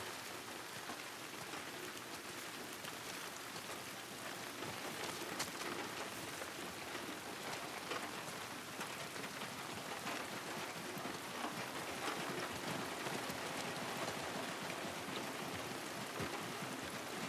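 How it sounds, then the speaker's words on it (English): Rain falls steadily on car roofs in The Last of Us Part II, a dense, even patter of drops that holds without pause and with no talking over it. "I love the sound of rain on tin roofs like that, or in this context, cars."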